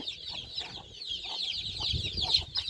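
Young chickens clucking steadily in a cluttered mix of chirps and peeps, with a mid-level rural din underneath and no talking.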